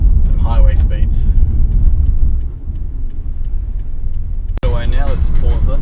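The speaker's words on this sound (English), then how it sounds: "We'll go up to the motorway and we'll do some 100k, some highway speeds." Steady low road rumble and tyre noise fill a car cabin at highway speed, about 100 km/h, on a motorway in a car with a sound-deadened floor and trunk, continuous and close, with someone talking over it.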